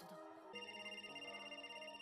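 A repeating electronic phone-style notification ringtone for hollows in the Bleach anime, bright pulsing tones sounding steadily and alone at moderate volume.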